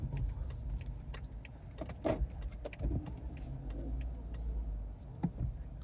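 A car turns around while driving to a supermarket, with a low, steady road and engine rumble and a few light clicks and knocks inside the cabin. No one speaks.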